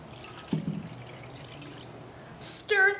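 Water splashes briefly into a large bowl of glue, a short pour near the start, followed by quiet room tone and a couple of small clinks at the end, all fairly faint.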